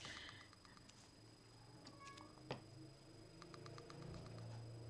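A cat meows repeatedly in short, faint calls from behind a balcony door indoors, over a low background hum with a brief knock partway through.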